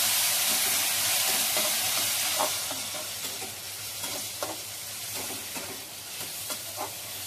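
Ground spices with a bay leaf and a little turmeric sizzle in hot oil in a pan, a close, steady hissing fry broken by soft scraping stir strokes.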